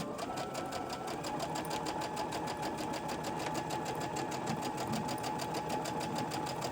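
A sewing machine stitches fabric for a quilt's star square block, with a close, steady rapid clatter of the needle that runs evenly from start to finish.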